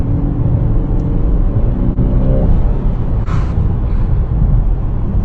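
Steady, loud cabin rumble from a 2018 Honda Accord easing on light throttle out of a corner, a continuous low road-and-engine drone with no talk over it.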